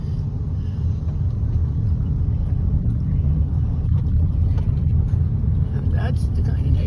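A car's engine and road rumble drone steadily and loudly from inside the vehicle while driving through a neighborhood in Mound Bayou, with a voice talking over it.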